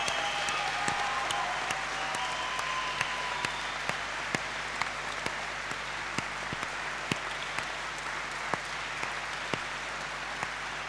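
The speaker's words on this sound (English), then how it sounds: "breaking out in applause, standing up to show their respect for the brave wrestler" A standing crowd applauds a wrestler as he is carried out on a stretcher, a steady dense wash of clapping that holds at even strength throughout, with individual sharp claps standing out near the microphone.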